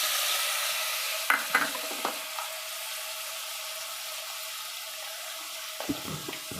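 Khichdi with soaked moong dal sizzles softly in a pan as a spoon stirs it, a few scraping taps early on and again near the end over a constant faint hiss.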